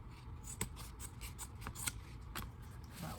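Scissors snipping excess fabric at the corner of a patio chair cushion with cording, a soft series of quiet, irregular cuts and rustles close by.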